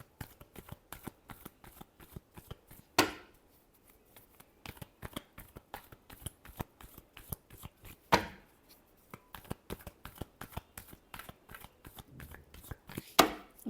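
Tarot cards being shuffled by hand during a reading, a long run of quick, crisp riffling taps repeated steadily, with a few louder snaps as the deck is squared or split, close up and with no talking.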